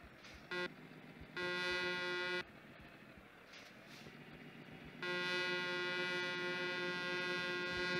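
Truck horn in Euro Truck Simulator 2 blares in loud sustained blasts, a short toot, a longer two-second honk, then a held blast, over a low engine rumble with no talk.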